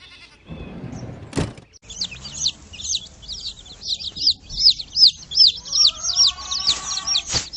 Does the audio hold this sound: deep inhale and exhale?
no